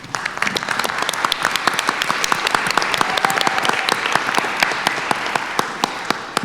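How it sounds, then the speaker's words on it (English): Attendees at the Brattleboro Representative Town Meeting in a hall clap together, with a full round of applause where individual close claps stand out crisply against the crowd. "I will note that the moderator also joined in the applause."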